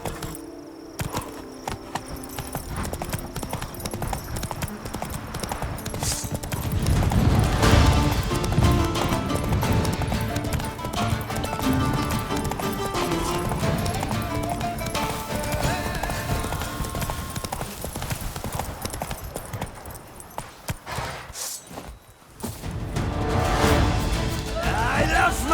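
Geralt's horse Roach galloping in The Witcher 3, with rapid hoofbeats under loud game music, combat clashes and speech.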